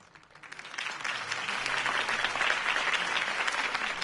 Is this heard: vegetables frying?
no